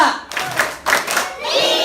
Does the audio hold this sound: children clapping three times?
yes